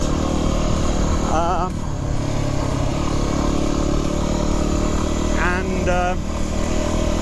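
A Yamaha WR250R motorcycle rides over sandy gravel, its engine droning loudly and steadily with rough clatter, wind buffeting throughout, and a rider talking over it.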